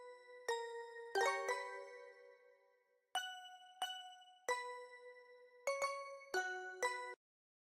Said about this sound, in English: So here's the bells.